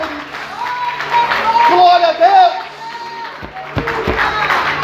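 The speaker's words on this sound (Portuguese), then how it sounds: "Aplauda o Senhor" A church congregation applauds during a Portuguese-language evangelical service, steady clapping rising and falling under loud preaching and exclamations, with a sung or chanted voice carrying over the crowd.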